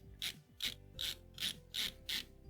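Long, tight screws being backed out of the rear of an N64 console with a ratcheting driver. Six evenly spaced, close clicking bursts come in a regular rhythm, quiet and alone.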